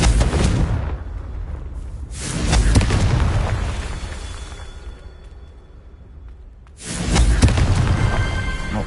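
Confringo fire spell explosions in the video game Hogwarts Legacy: two heavy booming blasts with rumbling tails, one near the start and one after a long quieter stretch, loud and close with no talking.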